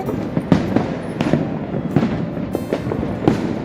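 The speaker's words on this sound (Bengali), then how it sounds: "চতুর্দিকে বোম ফাটছে, চতুর্দিকে বোম ফাটছে" Firecrackers burst repeatedly all around during New Year celebrations, sharp explosive bangs landing every half second or so amid a continuous crackling rumble, some near and some more distant.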